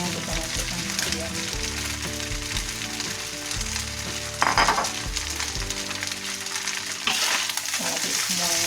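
Lemongrass, celery and meatballs sizzle loudly in a pan for Minang-style fried rice vermicelli with carrot, with constant crackling frying and a few stirring bursts over background music.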